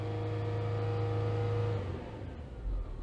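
A Citroën C6 with a big diesel engine idles while warming up, a steady low hum with a mid-pitched whine that drops off partway through, leaving a rougher, quieter rumble.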